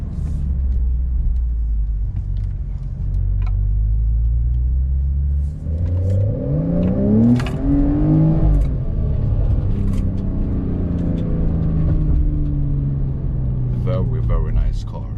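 A 2020 Porsche 992 accelerates hard at full throttle, its exhaust rising in pitch through a long revving pull with a gear change midway, loud and close from inside the car while people talk over it.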